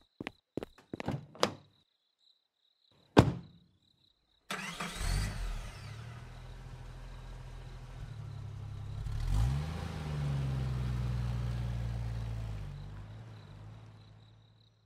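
Car doors thump shut, then after a pause a mid-sized car engine cranks and catches, idling and rising into steady revving as it pulls away, fairly close and with no talk.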